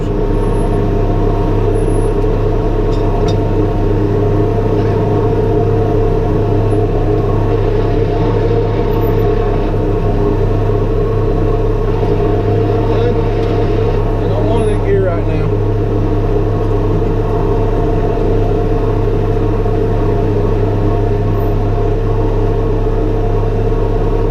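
A Teagle Tomahawk straw blower driven by a T5.120 tractor roars loud and steady, with a deep droning engine note and a dense rushing whir running continuously throughout.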